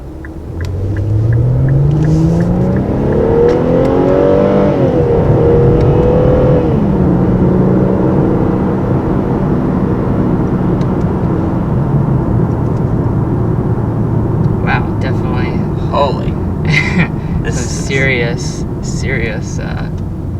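A 2019 Infiniti Q50 Red Sport 400 accelerates hard in sport mode with manual shifting, its engine note climbing loudly through revs with audible shifts, heard from inside the cabin, while voices talk over the later part.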